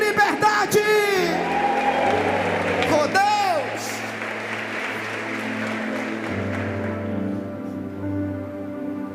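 Church congregation applauding and shouting together, a loud burst of cheers and whoops with a voice calling out over it, then settling into a steadier crowd noise.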